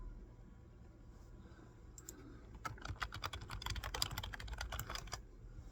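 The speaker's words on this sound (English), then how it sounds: "So you can hear a lot of typing." Rapid typing on a computer keyboard, a quick run of close, soft key clicks that starts after a quiet stretch and continues to the end over low room noise.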